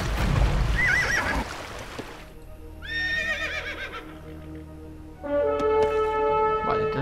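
Horses neigh in the video game Age of Empires II, several distinct whinnies with rising and falling trills rising over background battle and game sounds, one loud call near the start and more later.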